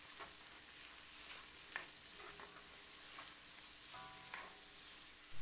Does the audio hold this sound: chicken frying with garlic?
yes